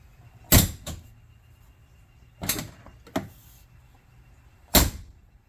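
Can-Am X3 side door fitted with an exterior handle, producing a few sharp, close latch clunks and clicks spaced a second or two apart, with quiet between them.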